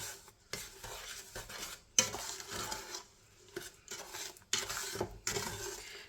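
Butter and sugar melting in a pot on medium heat while being stirred, giving bursts of scraping and clinking from the utensil against the pot, separated by short quiet gaps.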